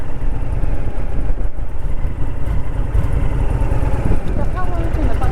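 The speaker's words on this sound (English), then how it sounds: "Once she's warmed up, she sounds a lot better. But when you think, it's a 14-year-old bike." Warmed-up engine of a 14-year-old motorcycle running, a loud, close, steady low rumble throughout, with a voice speaking over it.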